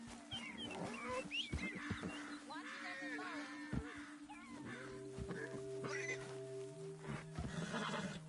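A horse neighs and whinnies in Red Dead Redemption 2 amid layered game-like sounds, with sustained tones and a voice speaking in the background.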